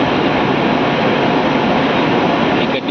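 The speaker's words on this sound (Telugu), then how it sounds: "డోన్ నుంచి మన ట్రైన్ బయలుదేరింది." A DEMU passenger train pulls out of Dhone junction, giving a steady, loud rumble of wheels and running noise that stays even throughout, with a slight dip near the end.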